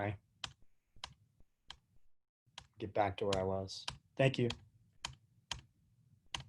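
Computer keyboard arrow keys pressed during a real estate training session, sharp isolated clicks spaced out through the clip, with someone speaking briefly in the middle.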